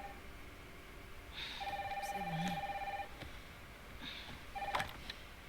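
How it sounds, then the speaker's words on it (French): Telephone ringing in Resident Evil Requiem, a bright electronic ring in repeated bursts over a low background hum, with a brief spoken phrase. "Maman, téléphone."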